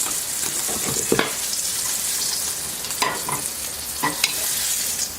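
Homemade breaded chicken patties frying in a pan, a dense, loud sizzle with occasional scrapes and taps of a utensil against the pan.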